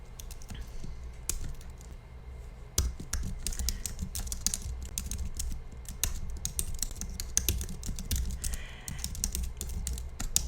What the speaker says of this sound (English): And then you're going to start typing.